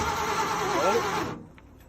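A rebuilt 351M V8 in a 1981 Ford F-350 cranks and catches for its first start, a loud rough churning roar close by that cuts off abruptly after about a second and a half.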